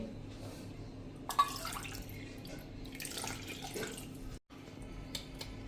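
Water trickles quietly into a khandvi batter of gram flour and yogurt, a soft, steady pour with faint drips and a brief pause near the end.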